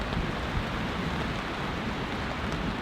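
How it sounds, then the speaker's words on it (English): Light rain falls steadily on a tent during a storm, a soft, even patter that continues without pause and without voices, fairly quiet overall. "far as the rain goes, it continues to be very light."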